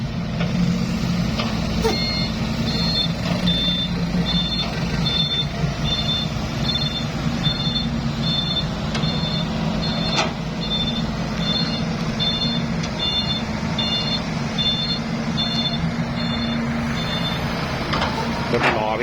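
Six-wheel dump trucks, Sany and Volvo, haul on a sticky clay work site in Maha Sarakham. A steady, repeating reversing beep sounds over continuous engine rumble, with a person talking.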